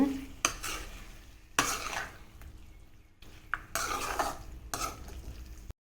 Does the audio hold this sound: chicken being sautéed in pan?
yes